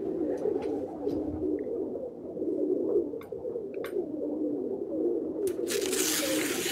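Pigeons coo softly in a video game backdrop, their low repeated calls sitting over a steady ambient hum, with a few sharp clicks and a brief hiss near the end.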